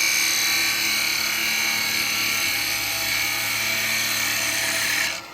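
A bowl gouge hollowing a very hard wooden bowl on a lathe gives a continuous rough, scraping cut over the spinning machine's hum, loud and steady before stopping abruptly near the end.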